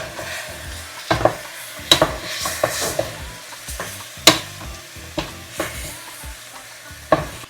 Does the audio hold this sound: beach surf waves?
no